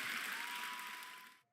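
Applause sound effect from a video game wheel bonus, a dense burst of clapping from a crowd, loud and steady, then cutting off sharply after about a second and a half.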